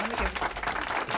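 Applause from a small group in a podcast studio, a short burst of dense, close clapping.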